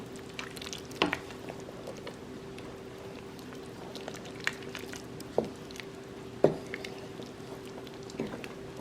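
A spoon stirring Kenyan beef stew with peas and potatoes in a pot: soft squishing and bubbling under a low steady hum, broken by a few sharp clinks of utensil against the pot.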